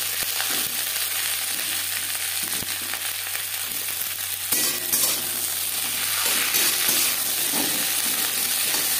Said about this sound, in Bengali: লো টু মিডিয়াম ফ্লেমে 3-4 মিনিট নাড়াচাড়া করে নেব